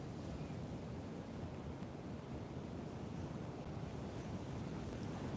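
Atlantic Ocean surf churned up during Storm Erin, a steady broadband roar of breaking waves mixed with wind buffeting the microphone, continuous and fairly faint, with no speech.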